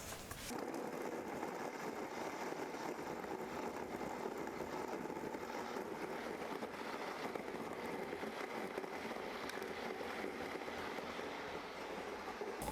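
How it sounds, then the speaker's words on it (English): A steady, loud whirring roar of a blender mixing food with water runs continuously, unbroken for the whole stretch with no voices. "let's blend this all together"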